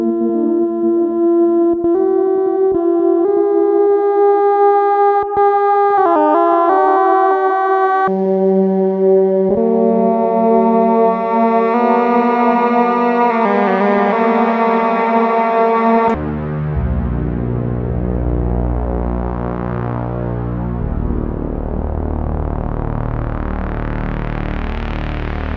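A Solar 42F synthesizer plays a sawtooth tone with delay or reverb, sustained buzzy notes shifting pitch in steps, then a deeper, thicker drone that swells into a wash of echoing harmonics, loud and continuous.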